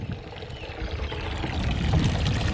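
Collected rainwater runs out of a gravity-fed spigot by a barn in a steady pouring stream, a close splashing trickle that swells slightly toward the end.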